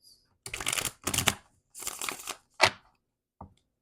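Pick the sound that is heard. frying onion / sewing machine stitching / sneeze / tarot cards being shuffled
tarot cards being shuffled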